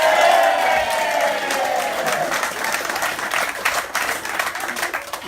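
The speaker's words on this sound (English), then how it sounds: "Bigger clap?" Sports club audience at an evening shirt presentation claps for a player being introduced, a loud burst of applause with a few cheers that thins slightly toward the end.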